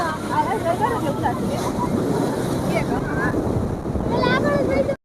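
Sea waves at Shivrajpur beach wash in as a constant rushing roar mixed with wind buffeting the microphone, while people chatter in the background.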